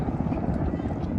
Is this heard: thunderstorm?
no